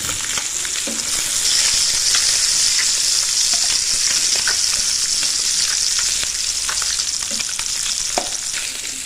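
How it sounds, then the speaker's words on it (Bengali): Fish pieces in a wok of hot oil sizzle loudly and steadily, a close, dense hiss dotted with sharp crackles and spits throughout, no voices. "এবার আমরা কড়াইয়ে দিয়ে দিচ্ছি মাছগুলো ভাজার জন্য"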